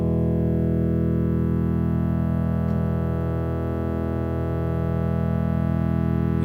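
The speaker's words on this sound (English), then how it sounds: "You hear how perfectly clear and smooth that sound is?" Synth major chord in just intonation, a dense, steady sustained tone that sounds clear and smooth without beating, with a faint sweeping tone dipping and rising through it.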